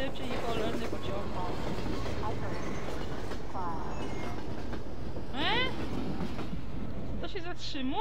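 In Half-Life 2 gameplay, a train rumbles past with a steady, loud rail roar and clatter throughout, with speech and squealing bursts heard over it.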